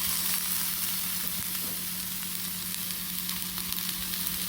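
Sweet peppers sizzling in a hot pan, a steady close crackle and hiss that holds even throughout, with no talking.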